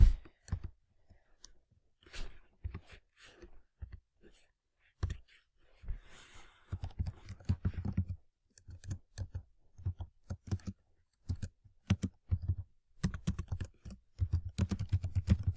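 Typing on a computer keyboard while writing notes, bursts of quick close key clicks separated by short pauses, with a soft sigh or breath between them.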